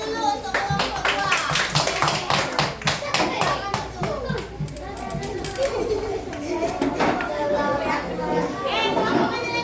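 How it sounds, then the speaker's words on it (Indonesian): Schoolchildren in a classroom coding lesson clap for a student group, quick bright handclaps in a lively burst that tapers while kids chatter and shout over it, continuing to talk afterward. "tepuk tangan dulu untuk kelompok 2"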